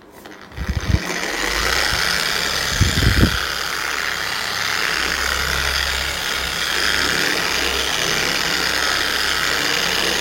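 A car polishing machine spreading polish over a car's paintwork at its lowest speed, a steady close whirring hum throughout, with a couple of brief thumps near the start.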